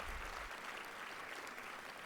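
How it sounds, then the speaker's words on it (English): A crowd applauds community organizations at a Coming Out Day program, a continuous even patter of clapping heard fairly faint and at a distance across the whole stretch. "all of the organizations that came here today, give them a round of applause"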